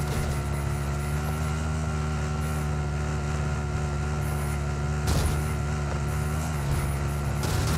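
A helicopter in the video game Call of Duty Warzone, a steady droning rotor and engine roar with strong low harmonics, loud and continuous throughout with a brief burst of noise midway, no talking.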